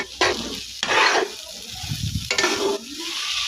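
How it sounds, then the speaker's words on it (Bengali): Papaya bhaji frying in a pan hisses and crackles as it is stirred. Loud scraping bursts of the spatula come in distinct strokes over the sizzle. "এবার ভাজিটাকে আবার নেড়ে চেড়ে নেব।"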